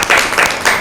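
A short, loud burst of applause for team B at a school Bible quiz, with several hands clapping close by in a few brief overlapping surges.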